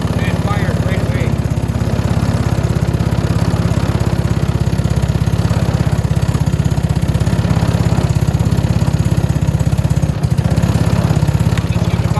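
Venom Mini Jeep 125cc engine fitted with a Nibbi carburetor running right after starting, a steady, loud, buzzing small-engine drone with a fast even pulse throughout, with someone talking over it.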